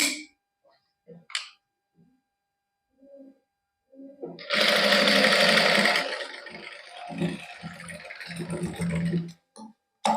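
A sewing machine stitches lace onto a suit in a boutique, running in a loud steady whir for about two seconds and then a few shorter bursts, with someone talking before and between.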